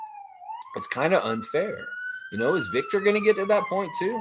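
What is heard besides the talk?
city sirens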